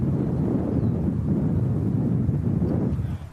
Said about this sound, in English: as we hear, that's not a gentle trade wind right now